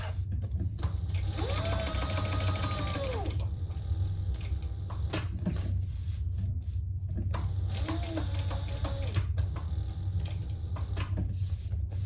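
Sewing machine stitching a cork tag at a 2.5 stitch length, two bursts of rapid whirring stitches separated by pauses with fabric handling and soft clicks, close and steady.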